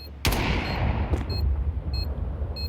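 A grenade blast in Counter-Strike during a pro IEM Dallas 2025 match: one sharp, loud burst followed by a rumbling low decay, with faint game clicks and beeps afterward.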